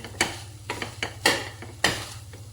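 Hot cooked peas and vegetables for a paneer paratha filling are mashed in a pan, giving repeated soft thuds and scrapes in an uneven rhythm over a low steady hum.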